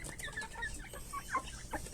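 Backyard Brahma chickens, about a month and a half old, clucking softly and continuously, a low busy chatter of overlapping calls fairly faint with background noise.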